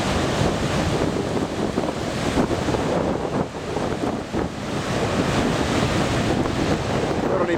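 Ocean surf breaking on the southern Australian coast facing toward the South Pole, a steady broadband roar of waves with heavy wind buffeting the microphone throughout, no talking.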